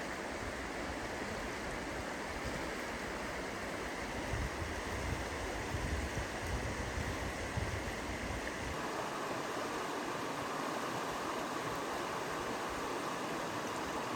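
A creek beside a campsite at Panther Creek Campground in Gifford Pinchot National Forest rushes steadily in a broad, constant, soft wash of flowing water, with no voices.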